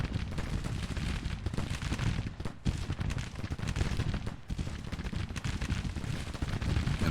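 Sustained battle din from a Civil War strategy game, with continuous musket gunfire and booming artillery packed together, loud and steady throughout.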